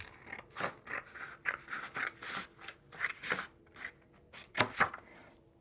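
Scissors snip through a folded sheet of construction paper, a series of close, crisp crunching cuts in an uneven rhythm with short pauses between strokes.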